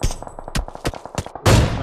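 Rapid bursts of gunfire crackle in quick succession in a video game, likely PUBG with an AWM rifle, ending in a louder, sustained blast of shooting with no voices.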